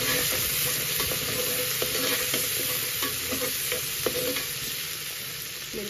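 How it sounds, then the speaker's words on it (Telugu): Spices and ginger-garlic paste fry steadily in hot oil for a vegetable biryani, a dense continuous sizzle with scattered crackles and a few clinks of stirring, fairly close and with no voices. "అవన్నీ వేసి కొద్దిగా ఫ్రై చేసుకోవాలి."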